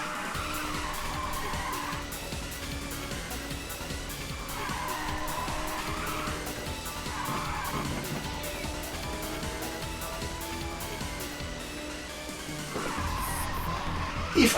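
Race car drifting and skidding in Ridge Racer 2 on an emulated PlayStation, a steady engine roar with repeated tire squeals swelling and fading over game music, loud and continuous throughout.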